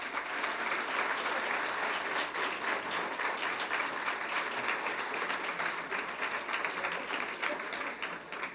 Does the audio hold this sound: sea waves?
no